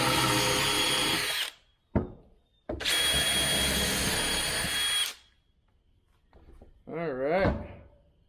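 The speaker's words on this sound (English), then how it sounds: "We got our pocket holes drilled." A power drill bores pocket holes into wooden boards for a bench, two long loud whirring runs separated by a short burst, then brief speech near the end.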